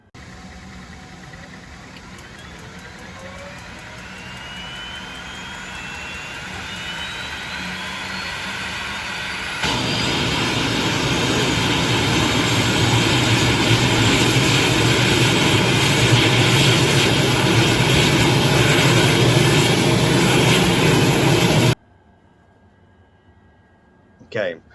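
Simulated AT-802 Air Tractor agricultural plane engine, a steady broadband roar with a rising whine that thickens and grows louder about halfway through, then cuts off abruptly near the end; faint voice-like murmur underneath.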